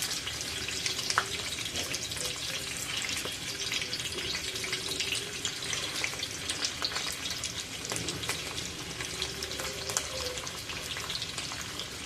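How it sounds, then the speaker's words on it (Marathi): Pomfret pieces fry in hot oil over a lowered flame, making a steady, moderate sizzle with scattered bubbling pops throughout. "तर हे पोचे असे तेलामध्ये घालायचे आहेत तेल तापलेलं आहे"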